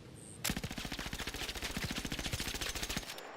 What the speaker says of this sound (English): who wanted to see me shoot the Kanto